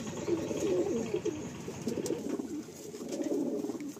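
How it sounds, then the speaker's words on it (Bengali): Madrasi pigeons coo steadily in a loft, their low rolling calls overlapping in a continuous, moderately loud chorus close by, with no talking. "এই যে নর পায়রা"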